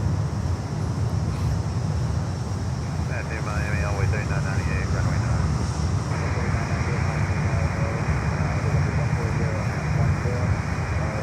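A factory-built Boeing 767 freighter, three years old, roars steadily at Miami airport, a broad continuous jet rumble with wind buffeting the microphone throughout.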